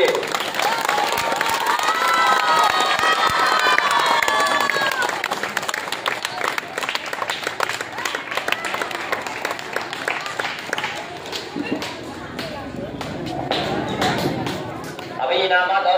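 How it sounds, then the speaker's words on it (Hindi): A crowd at a prize-giving ceremony for children claps and cheers loudly, with shouts and whistles rising over continuous applause that thins slightly toward the end. "एक जोरदार ताली बजनी चाहिए।"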